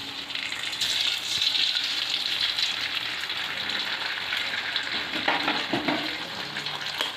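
Beaten egg frying with shredded cabbage in a hot pan for home-style chicken rice, a loud continuous sizzle with bubbling and occasional stirring scrapes throughout.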